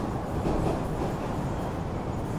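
A Red Line subway train rumbles steadily along the tracks, a continuous low roar with rattling undertones, no voices.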